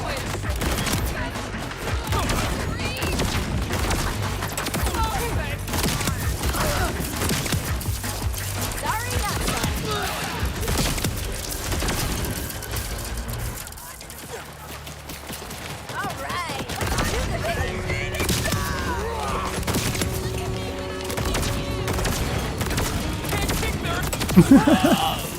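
Rapid, sustained gunfire from a gun in Borderlands 4 crackles almost continuously, loud and dense, with a brief lull midway, under game music and effects while people talk over it.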